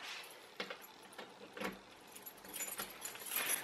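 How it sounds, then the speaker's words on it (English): A large bunch of keys jangles and clinks in short, repeated shakes close by, fairly quiet, with no voices. "And I've got the biggest set of keys and apparently it's on there somewhere."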